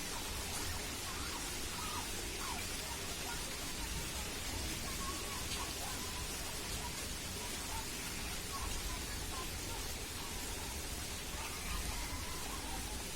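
Light rain falls steadily over a home garden and rooftop garden with swaying trees, making a continuous, even hiss of drops with no breaks or distinct impacts.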